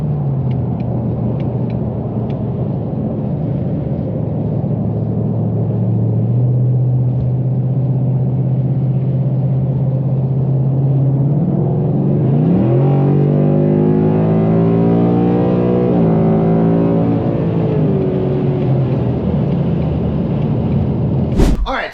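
A stock manual car with no tune idles with a steady low rumble, then revs up in a smooth rising sweep, holds and settles back, loud and close throughout.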